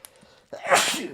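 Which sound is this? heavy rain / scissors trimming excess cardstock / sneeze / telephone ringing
sneeze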